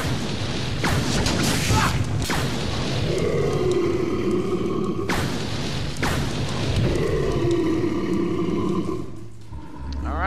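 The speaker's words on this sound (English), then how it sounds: "Now let's try incendiary rounds on this beast." Incendiary rounds fired at the Proto-Tyrant in Resident Evil Zero, heavy booming shots at intervals, each leaving a sustained roaring burn, with growls and game music in the background.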